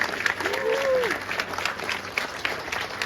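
An audience at an Army OSUT Turning Green military ceremony gives a steady round of applause for veterans, a dense wash of clapping with a brief faint tone and murmur over it.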